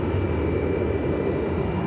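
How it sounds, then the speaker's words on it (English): A Boeing 787-9 Dreamliner jet airliner at DFW Airport, bound for Sydney, gives a brief, steady engine roar with a faint high whine, heard alone at moderate distance. "It's a 7879 Dreamliner."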